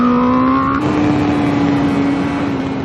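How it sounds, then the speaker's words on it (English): A 2021 Honda CBR1000RR-R Fireblade SP superbike on a race track holds a loud, steady engine whine that steps down in pitch as it shifts gear, with no talking. "Gear shift on this is lovely, really, really smooth, super light, a little touchy, but it's a proper race system"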